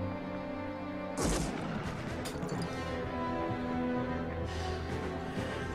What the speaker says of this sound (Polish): W ciemności padły strzały.